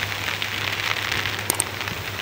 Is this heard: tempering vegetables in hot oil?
no